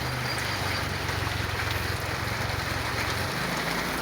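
Heavy rain pouring down in a dense, unbroken roar of drops hitting surfaces, loud and close, with a low rumble beneath.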